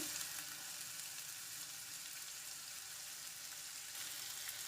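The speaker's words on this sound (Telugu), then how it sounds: "పచ్చిమిర్చిని ఉల్లిపాయలు బాగా వేయించుకుందాం" Chopped green chillies and onions frying in a pan, giving a faint, even hiss of sizzling that carries on without break and with no talking over it.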